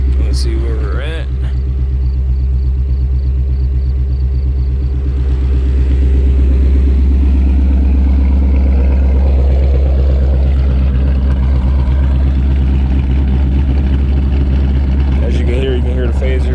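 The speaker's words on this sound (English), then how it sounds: "So at idle, that is when the car will start to lope." A 2015+ Ford Mustang GT with a Ghost Cam tune idles loud and close, its deep rumble holding steady throughout while someone talks over it.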